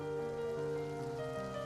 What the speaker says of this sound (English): droplets of rain began to fall,